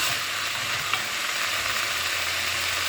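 Steady, even sizzle of liquid hitting a hot pan to deglaze the browned hamburger bits for a soup base, a continuous hiss with a faint stir partway through and no talking.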